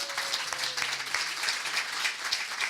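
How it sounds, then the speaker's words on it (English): An audience at a Pecha Kucha-style pitch event gives a theatre maker a welcoming round of applause, heard as soft, fairly distant, continuous clapping with faint tonal notes underneath. "So let's give Claire a large round of applause and welcome her up to Pitch Kucha."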